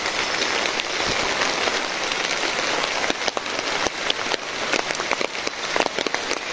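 Rain falls steadily on a flooded city street in Bangladesh, a dense hiss with scattered sharper drop impacts and splashes, constant and close throughout.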